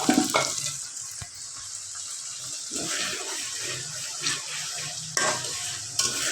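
Garlic cloves tossed into a hot pan for a sweet-sour-spicy olive pickle made with date-palm jaggery, giving a steady close sizzle and frying hiss with a few soft stirring clatters and scrapes.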